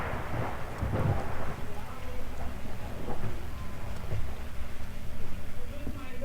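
Thunder rolls during a thunderstorm, a low, continuous rumble with swelling peaks over a steady hiss of rain, fairly faint and unbroken throughout.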